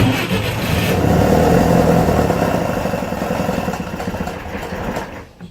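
Atomic 4 inboard gasoline engine on an Irwin 32 sailboat running rough, a close uneven throbbing putter that fades near the end.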